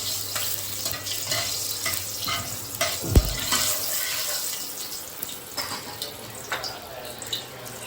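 Whole cumin seeds crackle and sizzle in hot oil in a pan on a gas stove, a steady close fry with scattered pops and one sharp knock of utensil on the pan.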